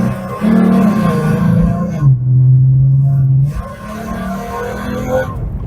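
A 2013 Ford Mustang V6 in sport shift mode runs through a tight U-turn, its engine holding a steady, loud low drone that rises and dips as it works through the turn, close and continuous with no talking.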